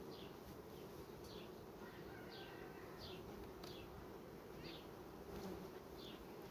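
A steady buzzing of many honeybees on a hive frame, close and continuous, with no voices.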